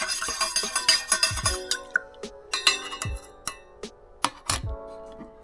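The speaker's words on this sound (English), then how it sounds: "Give it a quick stir real fast." Wine must is given a quick stir before the yeast is pitched, bright metallic clinks and scrapes against the vessel in a fast irregular burst, then a few more spaced taps.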